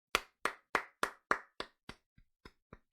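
Hands clap about ten times in an even rhythm, sharp and close at first, then fading and growing softer and sparser toward the end, with no talk.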